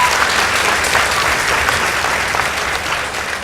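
A crowd at a school competition applauds steadily, a dense wash of clapping that holds for a few seconds before easing slightly at the end.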